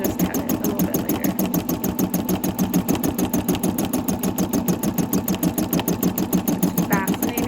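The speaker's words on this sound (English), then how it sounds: "It's fascinating to me that these embroidery machines will actually quilt." An embroidery machine quilting runs steadily and close up, its needle stitching in a fast, even rhythm throughout with no pauses, while people talk quietly beneath it.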